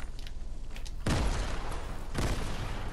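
Grenade explosions in a video game: two heavy broadband blasts about a second apart, loud and close, each with a rumbling tail over a busy background.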